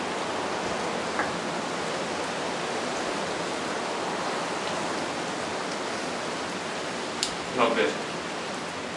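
Heavy rain hammers a fishing shelter in a steady broadband roar, with strong wind gusting against it throughout; a voice speaks briefly near the end.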